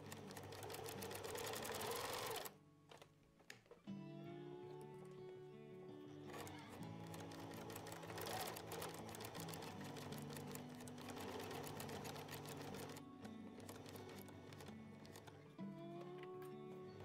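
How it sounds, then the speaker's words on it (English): A sewing machine runs at speed stitching a mini quilted zipper pouch with boxed corners, a loud continuous mechanical whir that stops briefly and restarts, close by with no talking. "Just try and sew as straight as you can."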